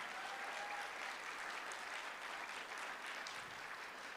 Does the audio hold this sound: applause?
yes